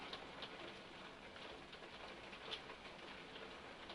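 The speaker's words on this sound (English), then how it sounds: "the rain has picked up" Heavy rain pelts down as a faint, steady, dense hiss with scattered soft patters throughout, with no talking.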